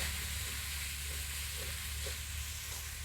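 Bitter gourd frying on a village stove outdoors, a steady close sizzle with faint stirring scrapes now and then, with no talking.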